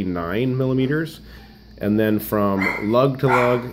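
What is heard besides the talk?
dogs barking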